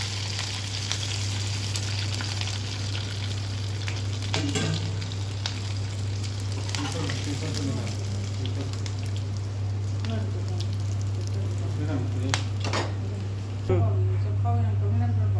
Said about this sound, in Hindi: उसके बाद फ्राई कीजिए, बहुत ही मज़ेदार लगेगा खाने में। देखिए, फ्राई हो गया दोनों साइड से।